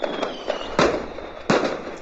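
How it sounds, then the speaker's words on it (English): Fireworks sound effect at a comedy awards show: small crackling pops lead into two sharp, loud bangs spaced under a second apart, each trailing off quickly. "Do the fireworks."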